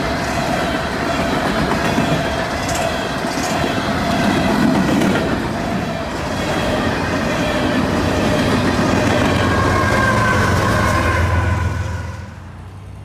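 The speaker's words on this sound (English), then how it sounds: "we did manage to catch two full trains" A full freight train rolls past in Central Florida, its loud, steady rumble and rhythmic clickety-clack of wheels on rail joints carrying on with faint squeals before dropping off near the end.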